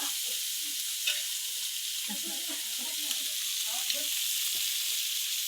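Fish fries on a flat tava, a constant bright sizzle with gentle bubbling and a few light utensil taps, steady and close with a soft voice murmuring faintly underneath.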